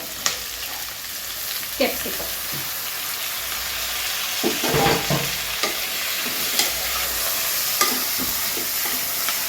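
Tomato and vegetables fry in a pan for a greens pulao, giving a steady close sizzle broken by irregular scraping and clacking strokes of a stirring spoon, with no talking.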